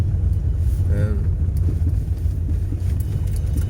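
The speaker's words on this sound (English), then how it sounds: "There's a big truck coming towards us" A big truck approaches on a road in Camelon, Falkirk, Scotland, its heavy engine rumble rising steadily and filling the foreground while a voice speaks briefly over it.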